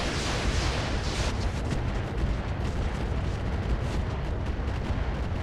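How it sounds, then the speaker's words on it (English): An LRM ammunition explosion destroys a Dervish mech in the video game RogueTech, a loud, sustained rumbling blast with crackling bursts that roars on without pause and with no voices. "Mostly just armor shred there, but LRM ammo explosion, and that's a dead Dervish."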